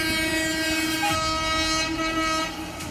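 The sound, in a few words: train sounding its horn while approaching on tracks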